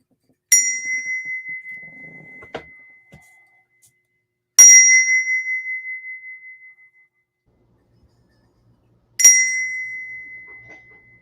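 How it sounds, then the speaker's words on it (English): A bell rings out three times at roughly four-second intervals. Each bright strike leaves a clear tone that fades slowly into silence, with a faint small knock between the first two rings. "I like the sounds of ringing. That is a nice bell."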